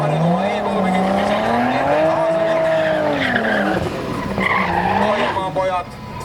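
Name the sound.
turbocharged BMW E30 race car skidding on track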